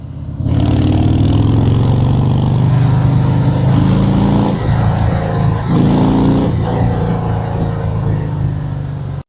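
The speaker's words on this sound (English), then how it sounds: "The engine creates a deep rhythmic exhaust sound that many riders instantly recognize." A V-twin motorcycle engine rumbles loudly and close with a deep, throbbing exhaust beat, swelling in a few revs before settling back to a steady idle-like pulse.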